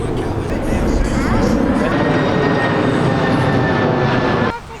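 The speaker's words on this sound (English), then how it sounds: "An airplane." A loud airplane roars overhead at Miami's South Beach, a steady broadband rumble filling the whole stretch before dropping off sharply at the end.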